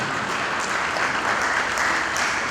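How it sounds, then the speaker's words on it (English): An audience at a Nigerian agriculture event breaks into a round of applause for a leader, dense steady clapping that fills the whole moment at a strong, even level, with no speech over it. "Please, a round of applause for him."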